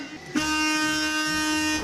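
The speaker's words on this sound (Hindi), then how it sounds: "एरोप्लेन का हॉर्न कुछ ऐसा होता है।" An airplane horn gives one steady, loud, alarm-like blast that starts abruptly and holds for over a second before cutting off, with faint background noise before it.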